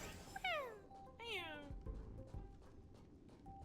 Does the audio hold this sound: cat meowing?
yes